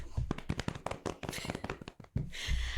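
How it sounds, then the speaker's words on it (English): Audience clapping at a sparkling wine and friendship talk show: a burst of close hand claps and taps in an uneven patter, briefly dropping away before picking up again with a louder wash of applause. "Everybody clap."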